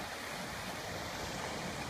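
Creek water runs over large rocks in a Texas creek that feeds into Denton Creek, making a steady, close, faint rushing babble with no voices.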